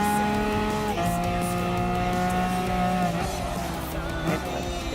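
Lamborghini Veneno hypercar in Gran Turismo Sport racing under throttle, a loud steady engine drone with shifting harmonics and gear changes, tires squealing faintly beneath it.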